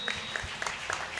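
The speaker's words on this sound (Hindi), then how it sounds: "जोरदार तालियों के साथ ईश्वर को धन्यवाद दीजिए" Church congregation applauding, a brief burst of quick overlapping hand claps, moderately loud and lively.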